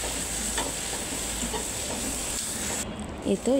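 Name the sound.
stirring fish-head curry spices in a pan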